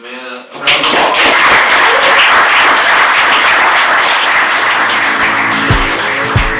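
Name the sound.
audience round of applause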